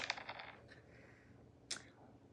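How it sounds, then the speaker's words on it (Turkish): Dice clatter and tumble briefly on a surface, a quick rattling burst followed by a single sharp click, quiet and close. "Zarı atıyorum."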